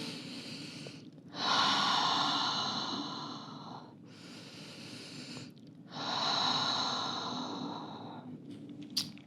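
Slow, deep breathing while resting in yoga child's pose: two long, airy inhale-exhale cycles heard close up, each a breathy rush lasting a couple of seconds, separated by brief pauses, with a faint click at the end.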